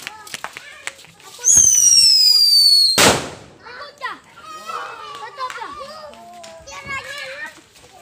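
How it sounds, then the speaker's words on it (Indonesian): Mercon firecrackers go off outdoors: a fizzing, whistling burst is followed by one loud boom, and then children chatter and shout excitedly nearby. "Itu dia mercon boomnya."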